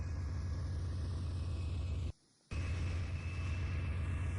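Train engine throttling up in the Trainz 2019 railroad simulator, a steady low diesel rumble with a faint whine, cut by a brief near-silent gap before the drone resumes, no voices.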